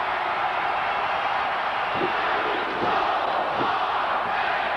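Wrestling arena crowd at a WWF event roaring steadily throughout, a dense sustained wall of cheering with a few brief louder swells, no clear speech on top.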